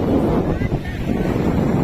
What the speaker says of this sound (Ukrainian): Яке море гарне.